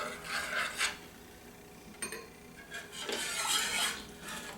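Flour mixture for chicken pot pie is whisked in a bowl, making bursts of brisk scraping and rattling strokes separated by short pauses, close and fairly quiet, with no talking.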